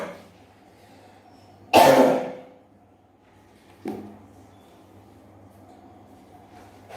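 A teacher in an online maths class coughs, one sharp loud burst followed by a shorter second cough a couple of seconds later, over a quiet room hum.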